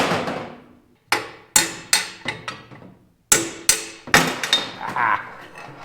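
Metal hammer blows knocking out wheel bearings on a Honda CR500 motorcycle, sharp ringing strikes in irregular bursts with long metallic decay, loud and close, with no voices.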